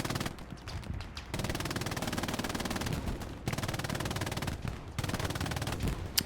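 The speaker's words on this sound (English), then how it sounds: "Kanta Bob on the MG" Machine gun fire in the Hell Let Loose World War II shooter, long rapid bursts of automatic fire at steady volume, broken by a few short gaps, with no one talking.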